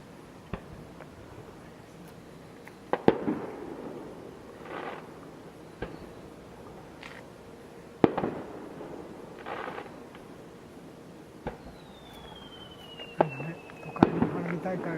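Fireworks at the Kasado Island fireworks festival: scattered distant booms and sharp cracks at irregular intervals, one rising whistle, with people chatting quietly nearby throughout.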